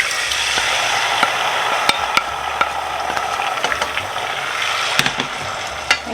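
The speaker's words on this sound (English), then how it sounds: "I added the sugar, and now I'm going to add the tomatoes." Tomatoes hit hot olive oil with garlic and sugar for a Neapolitan tomato sauce, giving a loud, continuous sizzle broken by scattered clicks and scrapes of stirring.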